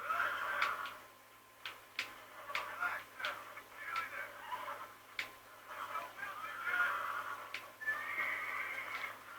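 Horse in the Red Dead Redemption video game whinnying and neighing repeatedly while being broken in, with sharp cries recurring every second or so over a steady ambient background.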